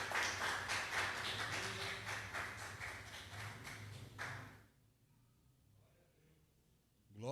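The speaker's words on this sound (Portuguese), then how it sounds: "aplaude em nome de Jesus" A church congregation claps together in a dense, steady patter that stops abruptly, leaving near silence before a faint return at the end.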